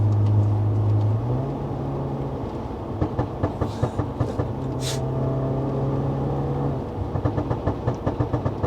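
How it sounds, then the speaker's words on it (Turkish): A Stage 1+ tuned BMW F10 520i with the N20 engine, heard from inside the cabin: a steady, loud engine drone broken by a run of quick, evenly spaced crackling pops as the car downshifts, then the drone resumes. "Vitesi düşünce çat pat başlıyor çünkü. Burble'ı alıyorum o zaman."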